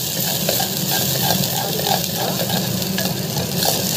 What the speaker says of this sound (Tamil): பச்சை வாசம் போடுறதுக்கு நல்லா வதக்கணும்